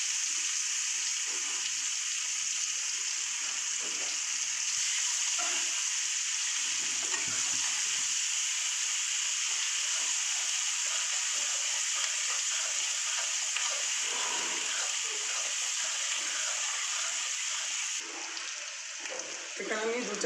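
Chopped onions frying in a pan while preparing a spicy katla fish head kalia: a continuous bright, hissing sizzle that holds steady throughout, with soft stirring scrapes beneath.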